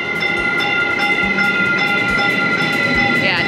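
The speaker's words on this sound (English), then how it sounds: "So this is the fast train back to Grapevine from Stockyards." TEXRail commuter train riding between Stockyards and Grapevine, heard from inside as a steady rumble with rhythmic clickety-clack wheel beats over the rails, loud and continuous.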